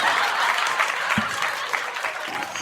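A canned cheer sound effect, with a crowd applauding and clapping in a dense, steady wash that fades slightly toward the end.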